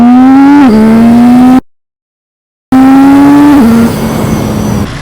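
A KTM 790 Duke motorcycle accelerates hard and loud up through the gears, its engine note dropping at each shift; a short silent gap splits two runs, the second fading into rushing wind.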